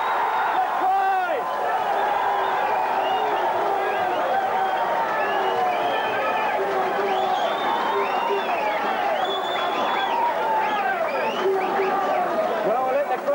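Crowd roaring and cheering after a try at a 1982 Papua New Guinea versus New Zealand rugby league match in Port Moresby, a dense continuous swell of voices with shouts and whistles throughout, loud and sustained.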